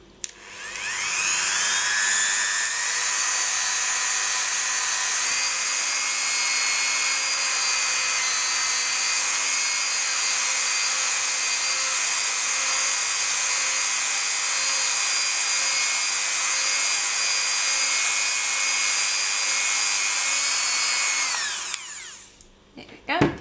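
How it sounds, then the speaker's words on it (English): Dremel rotary tool with sandpaper sanding a baked polymer clay bead, a high steady whine running for about twenty seconds without a break, close and loud before spinning down. "you'll want to use a lower grit of sandpaper with the Dremel"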